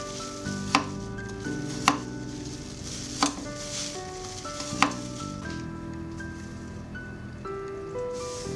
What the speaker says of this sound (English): Three garlic cloves, chopped.